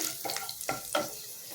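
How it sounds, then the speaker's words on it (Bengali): Fenugreek seeds and bay leaf tempering in hot oil for a rohu fish curry, a soft broadband sizzle broken by three brief stirring scrapes, close and fairly quiet, with no voices. "ফোড়নটা একটু ভালো করে ভেজে নেবো।"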